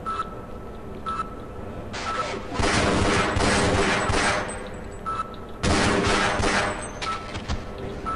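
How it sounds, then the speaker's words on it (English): Pistol gunfire in the video game Half-Life: several sharp shots in quick bursts from the player's weapon, loud and close against game ambience, with someone talking over parts of it. "this pistol is fucking cool"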